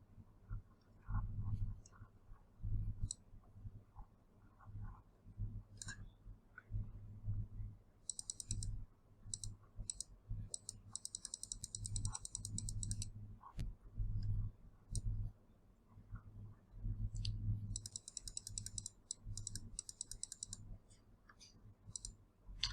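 A computer mouse clicks while a file is being selected, giving sparse soft clicks mixed with a few quick clusters of rapid clicking against faint room noise.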